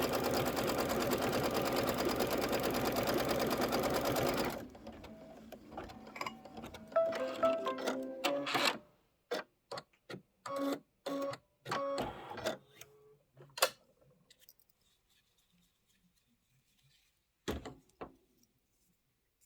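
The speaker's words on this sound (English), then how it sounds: "Then we're going to do our background quilting." An embroidery sewing machine stitches background quilting with a fast, steady mechanical whir for about five seconds, then stops and gives way to scattered clicks, taps and brief motor bursts before fading to near silence.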